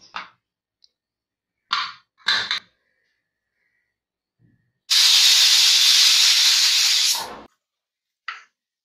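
A pressure cooker vents steam while cooking taro stem curry, a loud, steady hiss lasting about two seconds that stops abruptly, with a few short clicks and rattles before and after.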